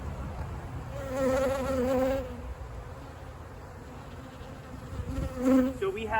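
Honey bees in a packed nuc hive full of brood hum in a dense, continuous buzz close by, with individual bees rising and falling in pitch as they fly near, and faint handling noises beneath.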